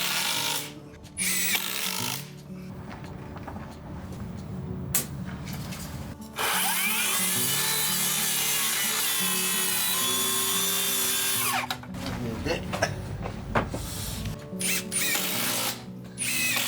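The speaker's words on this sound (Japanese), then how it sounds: "多めにビスで留めていきます。" Power driver sinking screws into a wooden floor sill during a carpenter's floor renovation, several long whirring runs with pauses between them, close and loud, no talking.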